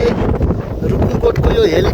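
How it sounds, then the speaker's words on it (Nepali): Strong gusty wind blowing near a mountain helipad at Rukumkot, Nepal, buffeting the microphone with loud, continuous low rumbling noise. "एकदमै हावा चलिरहेछ"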